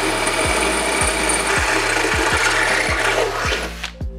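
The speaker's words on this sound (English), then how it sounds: "I'm gonna start by drilling a pilot hole with the 1/8-inch drill bit." A power drill with a 1/8-inch bit bores a pilot hole into a spot weld on an AE86 radiator support. The drilling is loud, steady and close, with a regular pulsing rhythm, and stops abruptly at the end.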